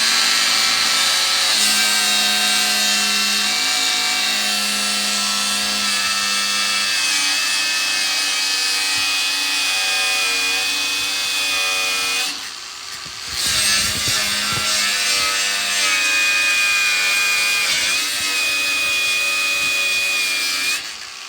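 A power tool cuts through a damaged Range Rover body panel during bodywork repair, a loud sustained grinding whine with a steady tonal pitch, briefly dipping midway before resuming.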